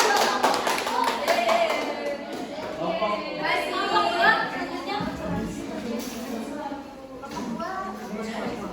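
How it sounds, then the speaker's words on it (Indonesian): A classroom of students clapping hands during a microteaching lesson, a short burst of claps at the start followed by chatter and voices from the group. "Oke, tepuk tangan semuanya."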